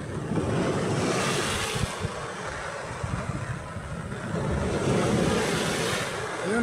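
Ocean waves roll and crash at Brooks Point, a broad continuous surf roar with wind buffeting, swelling louder near the start and again toward the end.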